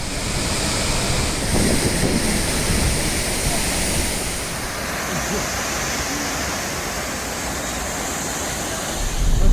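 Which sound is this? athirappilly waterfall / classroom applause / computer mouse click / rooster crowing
athirappilly waterfall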